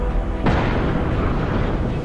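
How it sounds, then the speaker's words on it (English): A volcanic island erupting in a massive explosion, a sudden deep boom breaking through a continuous heavy roar of rumbling ash and rock. "Ash and rock was ejected over 30 kilometers into the air, with an explosion recorded as the loudest sound on Earth."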